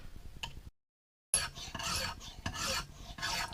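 A knife edge is drawn across a Lansky diamond hone in close, rasping strokes, one short pass, a brief silence, then a longer run of steady scraping strokes.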